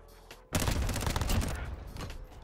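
Rapid bursts of AN-94 assault rifle fire in a first-person shooter game, a loud sustained volley that begins abruptly after a brief lull and rattles on for about two seconds.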